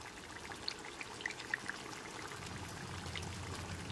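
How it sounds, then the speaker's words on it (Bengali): A spoonful of ghee goes over mutton kosha with potatoes in the pan, a faint, close, soft trickling pour with a few tiny sparse ticks over a quiet background hiss. "এইবার ওপর দিয়ে 1 চামচ পরিমাণ ঘি দিয়ে দিলাম"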